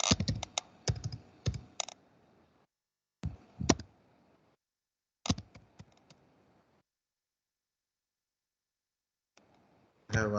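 Typing on a computer keyboard in bursts of quick clicky keystrokes, close and crisp, with long silent pauses between flurries and a fresh burst at the end.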